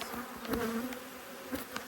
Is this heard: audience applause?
no